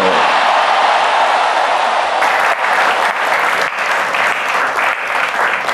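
An audience at a political gathering bursts into loud, sustained applause after a statement by Prabowo, thick continuous clapping with no voices standing out.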